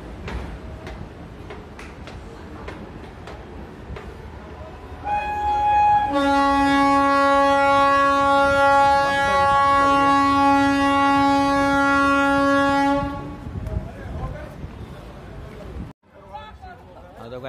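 At Gorakhpur Junction railway station, a train's horn blares in one long, loud, sustained tone over the rumble and clatter of rail traffic, then gives way to station noise.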